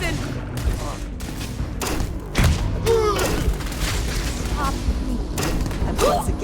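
EM weapon bursts and heavy explosions from a video game battle: steady sustained fire with deep booming blasts, one especially strong hit partway through, all under busy background voices and effects.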